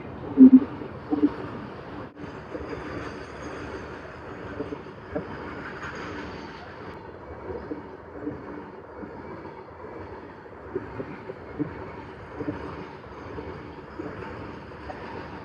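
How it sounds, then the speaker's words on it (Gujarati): A train rumbles past a railway crossing with a steady, low, moderately distant roll and a few sharper clanks, while a voice speaks faintly now and then. "રેલવે ફાટક આડું છે રેલવે આવે છે"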